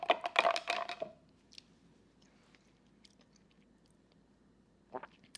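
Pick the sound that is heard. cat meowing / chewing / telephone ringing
chewing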